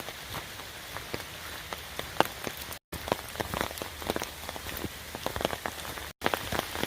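Steady rain pattering on a muddy wooded trail at Umstead State Park, a dense continuous spatter with sharper individual drop hits throughout, close and moderately loud, no voices.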